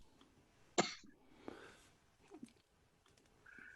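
Someone on a video call gives a single sharp cough, followed by faint rustling and low background noise, picked up quietly through a microphone.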